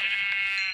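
Sheep bleating in Minecraft: one sustained, wavering nasal bleat lasting under a second, loud and close with nothing else around it.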